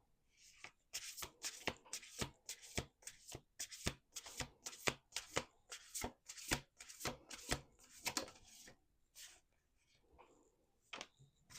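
Rapid riffle shuffles of a card deck, a burst of crisp flapping clicks repeated in quick succession, close and clear with no talking.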